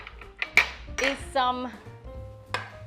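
An 8-inch loose-bottom baking pan, well used, handled on a kitchen counter, giving a few metallic clinks and a ringing clatter in quick succession, close by, with faint voices in the background.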